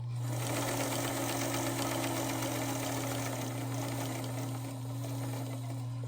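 A sewing machine runs steadily while stitching a 5-inch Home Town quilt block, its motor hum and rapid needle chatter continuous and close, with no talking.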